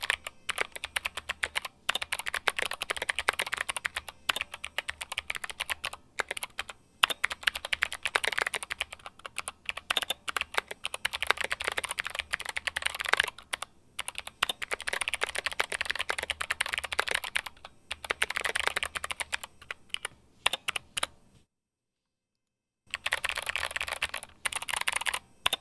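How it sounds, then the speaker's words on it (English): Fast, steady clicking of typing on a GMMK TKL mechanical keyboard with Kailh Box Jade switches and SA keycaps continues in bursts, with a short silent pause before the keystrokes resume, close and crisp. "here's a little typing test for you guys."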